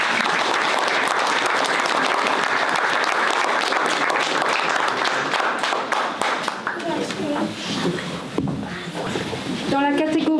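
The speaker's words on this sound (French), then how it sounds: "On peut les applaudir très fort." A live audience at a local talent awards ceremony applauds the winners, with sustained, dense clapping that continues throughout and thins slightly toward the end as a few voices and cheers rise above it.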